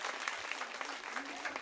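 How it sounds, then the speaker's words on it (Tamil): Applause from the women of a State Bank Colony group at a Legion of Mary arts program in the Thoothukudi diocese, a steady patter of clapping heard faintly at a distance with voices mixed in. "மீண்டுமாக ஒரு கைத்தட்டல்"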